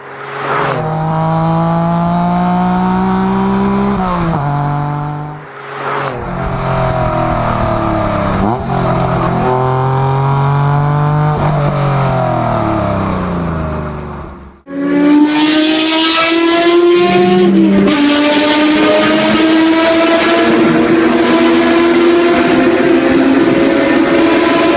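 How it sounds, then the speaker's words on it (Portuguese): A Honda NSX V6 engine roars through repeated high revs and gear changes, rising and dipping in pitch, loud and close, ending in a sustained high-pitched wail. "o NSX tem um dos melhores roncos que um motor V6 pode ter"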